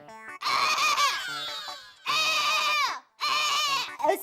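A person imitates a crow cawing in the manner of a goat's bleat: three long, wavering bleating cries close up, with brief pauses between them.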